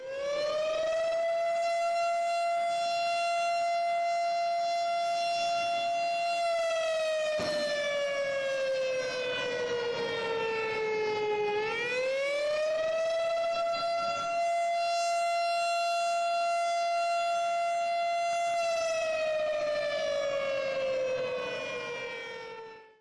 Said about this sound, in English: The Lima Chemical siren is a wailing or up and down sounding siren